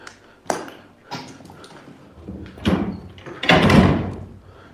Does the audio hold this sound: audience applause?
no